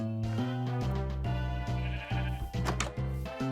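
A sheep in a video game gives a series of wavering, nasal bleats in quick succession, close and fairly loud, with no voices present.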